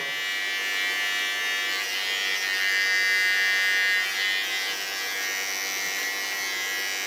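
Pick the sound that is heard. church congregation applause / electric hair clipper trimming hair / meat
electric hair clipper trimming hair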